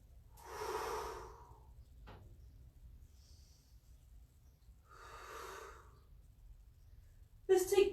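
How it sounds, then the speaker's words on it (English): Slow breaths during a Pilates mat exercise in a chin-to-chest position, two soft breathy swells a few seconds apart, close and gentle, followed by a brief louder rustle at the end. "And we breathe."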